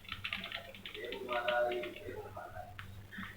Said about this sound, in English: you can use cursor key on the keyboard